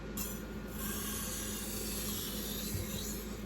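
Kitchen knife drawn across a wet water stone, giving a steady, continuous gritty rasp throughout at close range, with no pauses or talk.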